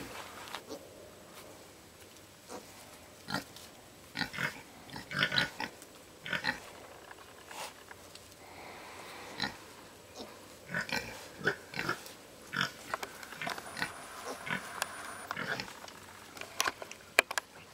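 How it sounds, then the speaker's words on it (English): Piglets out in the sunshine on a homestead, with scattered soft grunts, snuffling and rustling close by, broken by irregular sharp clicks and taps over a quiet outdoor background. "there's more piglets out enjoying the sunshine"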